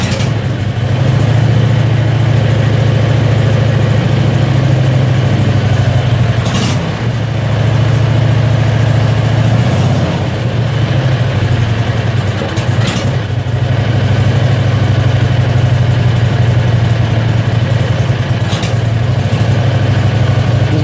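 A Predator 670cc engine runs on choke with a loud, steady, continuous drone and an even low rumble for about twenty seconds, with no talking.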